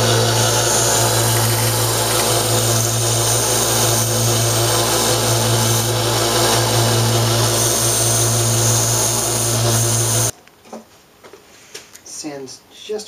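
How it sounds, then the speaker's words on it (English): Power sanding of burrs off metal cannon parts, a loud steady whirring drone for about ten seconds that cuts off abruptly, followed by brief speech. "Sands just around, little burrs off those."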